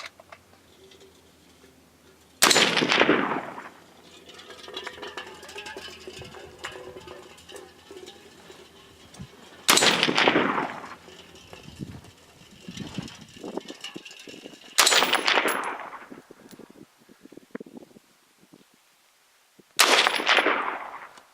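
Four sharp rifle reports from cast-bullet .223 loads with IMR4064 powder, spaced several seconds apart outdoors, each loud crack followed by a fading tail and faint background clicks, no voices between.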